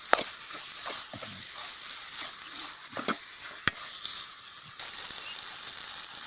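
Gongura sorrel leaves and chicken sautéing in a pan with tamarind-tangy spices, a steady moderate sizzle broken by a few sharp spatula scrapes and clicks, with no talking.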